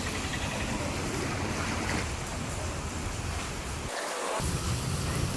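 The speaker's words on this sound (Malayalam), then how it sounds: "മഴയാണ് ഗൈസ്, മഴ." Steady, dense wash of heavy rain over a flooded area, loud and continuous with a brief dip near the end, with no voices.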